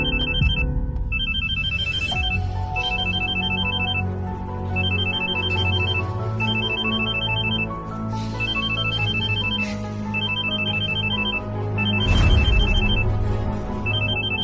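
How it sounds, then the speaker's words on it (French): A personal mobile phone ringtone plays repeated short melodic bursts at a steady rhythm. It sounds over a low background of music and other sound. "Je viens d'entendre la sonnerie de son portable perso."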